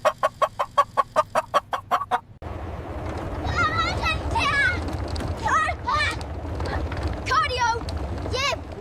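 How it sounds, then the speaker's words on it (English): A chicken in a snowy blizzard scene of a cartoon clucks in a series of sharp, evenly spaced bursts at first, then excited squawks and warbling cries continue over a steady windy rumble. "Is that a chicken?"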